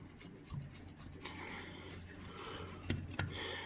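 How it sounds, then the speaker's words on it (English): A manual screwdriver turns screws into a winch fitting, producing soft close rubbing and rasping with a couple of sharper clicks near the end, quiet and without talk. "I might have to use a real screwdriver for that."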